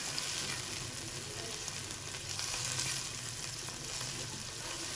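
Sliced mushrooms sauté in a hot pan, giving a steady, dense sizzle and crackle of frying that holds evenly throughout at close range, with no talking over it.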